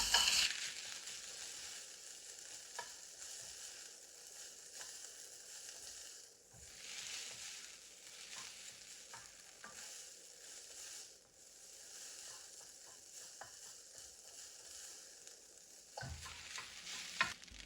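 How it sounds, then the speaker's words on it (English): Boiled rice being stir-fried in a pan for chicken fried rice, a continuous soft sizzle with repeated scraping and tossing strokes of a spatula, close and low in level, no talking. "Now add in your boiled rice and cook for 1 minute."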